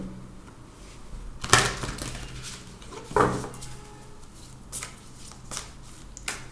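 Cards from an Earthcraft Oracle deck are handled during a tarot reading, with several crisp papery snaps and riffles spaced out over a quiet background and no talking.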